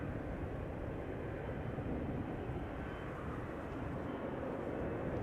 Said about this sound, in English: flight 903 to Inverness in Scotland. There it is already, Embraer 190